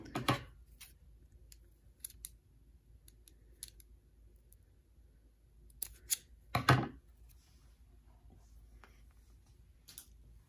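Scissors snip off the short end of a triple-knotted string on a kandi beaded bracelet, with a few sharp, close cuts standing out clearly against a quiet background.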